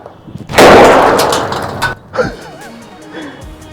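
A loud Diwali firecracker bomb bursts suddenly and rumbles for over a second, followed by fainter crackles and a voice under the fading noise.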